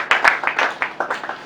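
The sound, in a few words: congregation applauding in church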